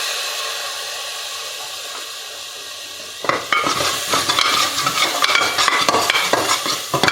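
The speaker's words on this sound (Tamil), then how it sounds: "இப்போ தயிர் ஆட் பண்ணிக்கிறேன்." Yogurt goes into prawn biryani masala frying in a pan, bringing a sudden burst of loud sizzling and hissing with steady stirring scrapes that follows a quieter stretch of low frying.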